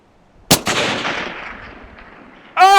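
A single loud rifle shot rings out across an open hillside, aimed at a big rock roughly a thousand yards off, with a long rolling echo trailing away before a voice cuts in at the end.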